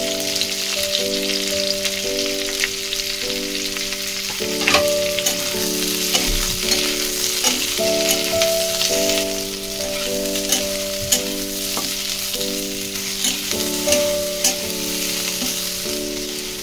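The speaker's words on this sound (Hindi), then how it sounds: "पियाज और कैप्सिकम को हल्का भाजी देबी" Onion and capsicum sizzle lightly in oil in a kadai, a steady close crackle and hiss that runs without pause beneath a faint layer of background music.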